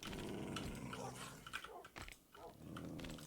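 Wolves growling in the video game Minecraft, a low rumbling snarl with a few sharp snaps running steadily through the clip alongside clicking keys, moderately loud and close.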